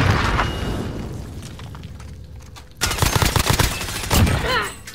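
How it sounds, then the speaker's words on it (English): A grenade blast in Call of Duty Warzone booms out amid a rattle of rapid gunfire, with a heavy burst arriving partway through and another thump following soon after, loud and close. "Fucking grenade"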